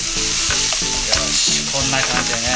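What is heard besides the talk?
minced pork frying in a pan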